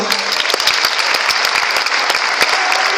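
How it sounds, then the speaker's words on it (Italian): An audience applauds loudly at a ceremony, a thick, even burst of many hands clapping close by for the full three seconds with no talk over it. "Lo ricordiamo anche noi con il vostro applauso."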